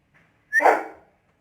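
A pet dog, unsettled by firecrackers going off outside, gives a single short yelping bark that is close and fairly loud. A faint sound comes just before it, and the rest is quiet, with no talking.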